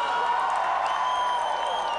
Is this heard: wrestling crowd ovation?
yes